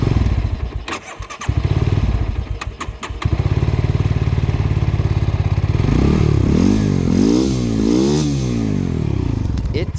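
A Spy Racing F3 quad bike engine fires up after a few cranking clatters, then runs loud and close, revving up and down in sweeping rises and falls with a whistling edge.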